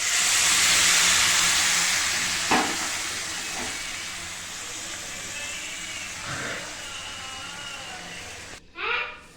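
Water poured into a hot pan of cooking meat bursts into a loud steamy sizzling hiss that gradually settles, with a few clinks of utensils and a faint voice near the end.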